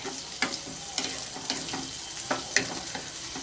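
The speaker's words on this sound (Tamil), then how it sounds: "மிளகு வெடிக்கிறது தான் கேட்குது பாருங்கள்" Hot oil sizzles steadily while peppercorns burst in small sharp crackles and pops irregularly, close by, with no voices.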